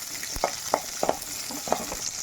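Small shallots and a piece of cinnamon bark sauté in hot oil, a constant sizzle broken by a handful of quick spatula scrapes and taps against the pan, close up with no talking.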